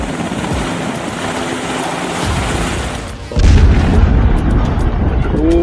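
Missile strike explosions hit the Iranian port of Bandar Abbas, a rumbling roar building before a loud heavy boom erupts and continues as a sustained thundering blast.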